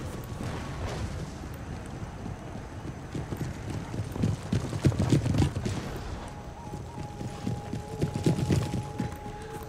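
In the Empire Total War video game, a regiment of cavalry horses charges as a massed rumble of hoofbeats, mixed with battle booms and a faint whinny, running continuously at moderate volume.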